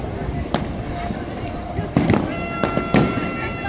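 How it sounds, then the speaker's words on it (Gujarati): Several sharp firecracker bangs burst at irregular intervals, some close together, over a steady outdoor background hum, during Uttarayan celebrations near the Tapi bridge in Surat in the evening. "કેટલા મસ્ત મજાના બોમ્બ ફૂટે છે"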